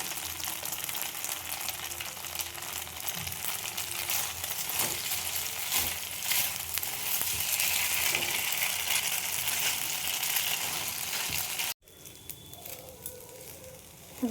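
Dry fruits frying in ghee give a dense, continuous sizzle with a little stirring, then it cuts off abruptly and comes back quieter for the last few seconds.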